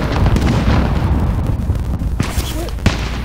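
A heavy cannon sniper shot and explosion in the video game Warzone booms out loudly, followed by a rumbling tail and a couple of sharper bursts near the end.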